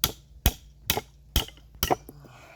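A hammer strikes a car suspension arm bush five times in steady succession, each blow a sharp, loud, close metallic crack with short pauses between, ending with a faint rattle.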